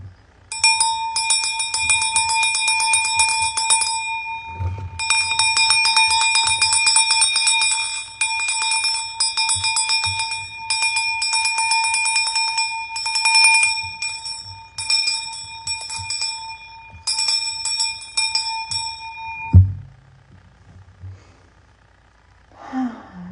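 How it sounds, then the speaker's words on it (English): A single bell is struck and rings out with a bright, sustained metallic tone that slowly fades, followed by a soft breath near the end. "the sound clearing with my Ocean's bell"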